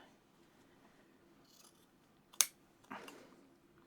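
Sharpened workshop scissors snip through fabric with one sharp, close cut, then a softer second rustling cut of the cloth a moment later, both fairly quiet against a low room hum.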